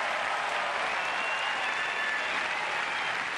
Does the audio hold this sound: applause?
yes